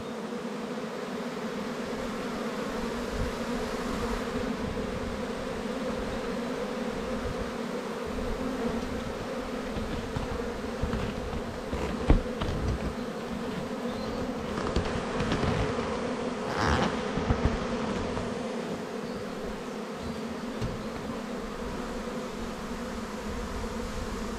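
A honeybee swarm buzzes in a small hive box, a dense continuous hum of many bees that stays steady and close throughout.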